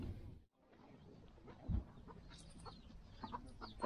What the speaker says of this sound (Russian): Такой вот петух здесь, друзья.